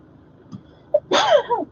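At a vehicle impound auction, someone lets out a sneeze: a brief intake, then a sharp, loud burst that trails off into a short voiced tail, nearby and alone.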